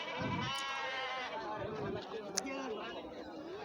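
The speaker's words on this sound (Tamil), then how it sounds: "ஆட்டுச்சந்தை" Goats bleat over a busy crowd murmur, calls overlapping and rising at varying pitches in a crowded goat market at Narikkalpatti, Palani, Dindigul district.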